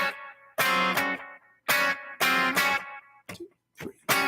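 Electric guitar playing a sparse blues rhythm part in A, mimicking a horn section: short, punchy distorted chord stabs separated by gaps, loud and close, with a few brief muted scratches near the end and no talking.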